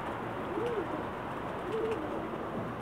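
Two soft coos from Pakistani pigeons, spaced apart, over a steady background hum; the cooing is gentle and nearby.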